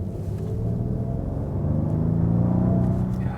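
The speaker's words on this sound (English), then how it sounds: "I can now also push the throttle. Yeah, there you hear it." Inside a Rolls-Royce Wraith coupé under throttle, the engine gives a smooth, deep rising rumble that swells gently midway, steady and muted by the cabin, with no voices.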